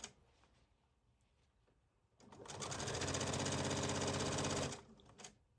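A sewing machine runs along the bottom hem of a Hawaiian shirt in one sustained burst of rapid, even stitching lasting about two and a half seconds, preceded by quiet handling noise.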